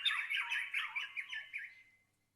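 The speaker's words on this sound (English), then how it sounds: "So this sounds more like an aviary or more like there's a lot of birds playing here, right?" A dense flurry of bird squawks and chirps overlaps like a busy aviary in an FMOD Studio sound demo, lively and close, then cuts off into silence near the end.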